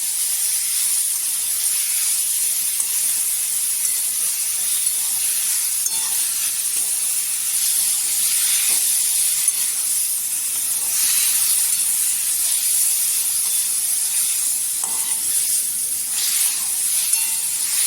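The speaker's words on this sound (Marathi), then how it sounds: "ते आपण आता मिरची टाकायच्या तेलावर परतून घ्यायचं एक दोनदा" Green chillies frying in hot oil in a pan, a steady bright sizzle and hiss that continues unbroken with occasional faint stirring.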